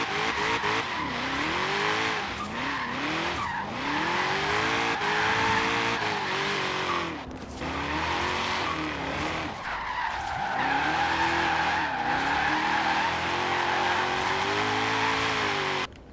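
Ford Mustang GT350 custom drift build in Forza Horizon 3, with a loud, continuous engine roar and wavering tire squeal as the car slides through sustained drifts, pitch rising and falling with each slide.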